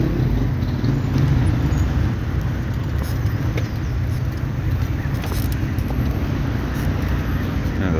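Congested city traffic on a São Paulo avenue, a loud continuous rumble of cars, buses and trucks idling and creeping close by, with a faint brake hiss now and then.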